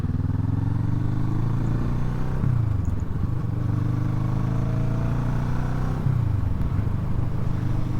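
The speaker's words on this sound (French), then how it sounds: "Le bruit de ce petit bicylindre en ligne là, c'est vraiment sympathique." A 2007 Kawasaki ER6N parallel-twin motorcycle engine runs while being ridden, giving a steady low drone that dips briefly twice as the revs change, with wind noise around it and no talking.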